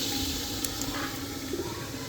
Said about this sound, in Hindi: अब इसमें थोड़ा पानी मिलाएंगे फिर चावल डालेंगे।